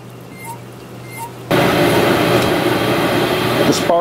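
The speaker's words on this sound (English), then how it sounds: "Sorry for the extra noise, that's just my propane burner." A propane burner under a homebrew boil kettle, heating wort for an Oktoberfest beer, ignites with a sudden loud, steady roar that holds constant after a quieter stretch of faint room noise.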